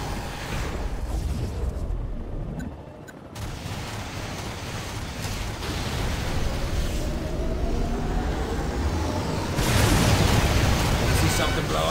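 Explosions and heavy weapons fire rumble through a Command & Conquer Generals Zero Hour match, a steady dense roar of blasts that swells louder near the end, with in-game unit voices mixed in.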